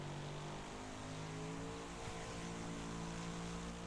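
A race car engine in the Wreckfest racing game holds a loud, steady high-revving drone with shifting harmonic tones through a short run, close and without talk.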